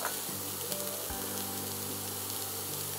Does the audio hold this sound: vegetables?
yes